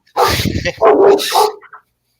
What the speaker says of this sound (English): Our dogs bark too